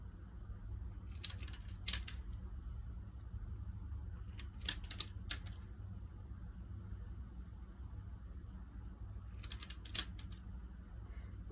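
Woven reed is trimmed with sharp reed trimmers, giving a few crisp snips in small clusters, close and distinct over a quiet background hum.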